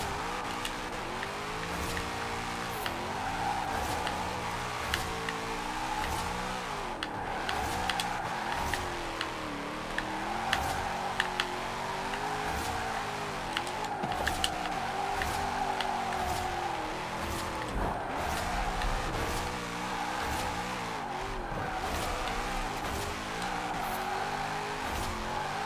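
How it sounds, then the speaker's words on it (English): A Nissan 240SX Formula Drift car engine in the Forza video game revs hard and continuously, its pitch rising and falling through gear changes and throttle bursts, loud and close with faint tire squeal. "car sounds pretty great. Sounds like a V8."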